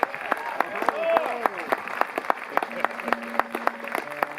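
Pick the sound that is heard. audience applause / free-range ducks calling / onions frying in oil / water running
audience applause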